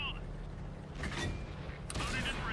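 Gunfire and explosive blasts in a tank battle game set among desert dunes, two rough bursts about a second apart over a constant low engine rumble, with faint voices underneath.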